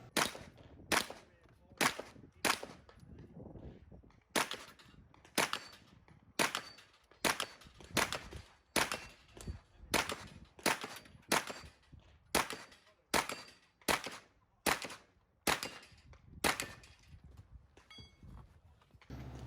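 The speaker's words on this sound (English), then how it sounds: "I'm going to engage the close range 5x5 steel squares on the ground" Rapid shots from a pistol caliber carbine at close-range steel squares during a state PCC championship match, around two dozen sharp cracks in quick, fairly even succession, with faint metallic rings between them.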